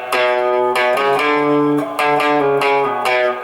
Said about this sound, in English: If the guitar was just going clean into the amp, it would sound like this.